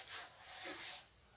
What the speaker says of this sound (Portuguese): Vou usar uma lixa de velcro 36.